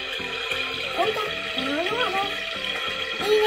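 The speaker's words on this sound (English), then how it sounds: "I'm gonna turn on the water." Water runs steadily from a tap, a constant hiss in the background while a voice talks and hums over it.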